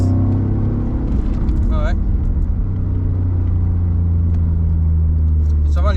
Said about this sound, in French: On peut déjà entendre le feulement du V6.